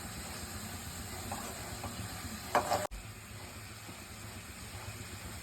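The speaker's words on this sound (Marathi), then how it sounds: "अजून एक दोन मिनटं फक्त फ्राय करून घेऊया" Grated fresh coconut and jaggery fry in a pan with a steady soft sizzle and hiss, heard up close. A brief clatter of stirring breaks in midway.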